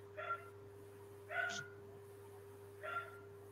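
A small dog yaps in three short, separate bursts, close and fairly loud over a steady electrical hum in a quiet room, with pauses between the barks.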